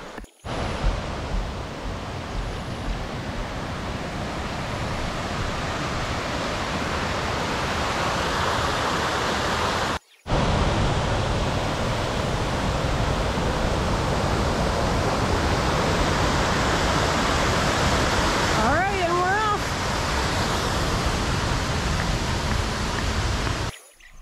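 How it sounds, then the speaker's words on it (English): Continuous rushing of a river flowing beside a forest hiking trail in Pictured Rocks, a dense steady wash of water close by with a brief break midway and a faint chirp near the end. "This is a great way to begin the day, coming along this river here. It sounds beautiful"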